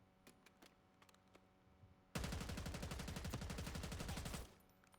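Automatic gunfire in Call of Duty, a rapid, evenly spaced burst of shots that starts abruptly, holds loud and steady for a couple of seconds, then stops, after quieter scattered game noise.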